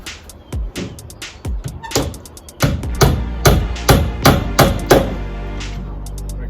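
Sharp hammer strikes drive nails to tack down the corners, about a dozen close, loud blows in an uneven rhythm, with a few lighter taps between them.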